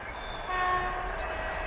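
Two trains meeting near a village, an electric commuter train and a freight train, exchange a brief horn call: a short tonal toot over a low, distant rail rumble, faint and quick.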